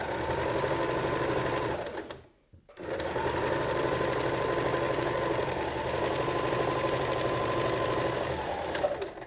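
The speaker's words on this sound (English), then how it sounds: "At this point, I want to sew right off the edge." A sewing machine stitches fabric for a produce bag, its needle chattering in a fast steady whirr, stopping briefly for a second and then running on continuously, close and clear.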